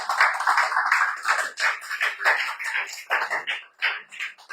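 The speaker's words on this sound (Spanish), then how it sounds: "Póngase de pie, dale un aplauso al Señor fuerte" A church congregation claps together, a dense, continuous patter of many hands that swells and dips in loudness for several seconds, fairly close, with no clear voices over it.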